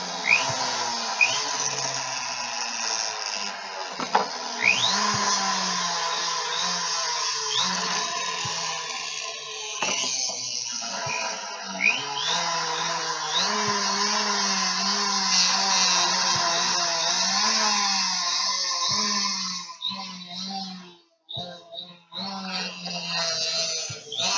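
A rotary burr grinds and polishes a large fire agate gemstone, a steady whining, squealing buzz with shifting pitch as it skips across the stone, close and continuous, with brief breaks near the end.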